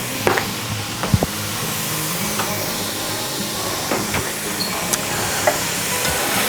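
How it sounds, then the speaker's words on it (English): Texas chili spiced with cayenne is stirred in a pot: a spoon scrapes and knocks against the metal in scattered strokes over a steady low simmering sizzle, with no talking. "Give this a stir."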